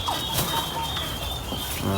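A hybrid turkey on a farm beats its wings in a short flurry of soft flaps, fairly faint against the background.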